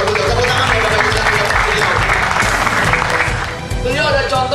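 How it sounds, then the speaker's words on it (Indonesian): Dense audience applause at a large business training kickoff event in Indonesia fills the whole stretch loudly and steadily, a crowd of many hands clapping together, easing slightly near the end. "Tepuk tangan Bapak dan Ibu."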